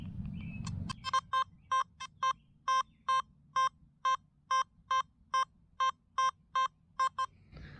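A Nokta Makro Simplex metal detector sounding over a pull tab stacked on a nickel: a run of about fifteen evenly spaced, clear electronic beeps, loud and close, after a brief low rumble.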